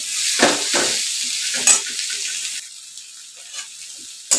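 A boiled potato mixture with chopped coriander is stirred and smashed in a pan for batata vada, giving several soft scraping strokes over a steady hiss and a few sharper knocks.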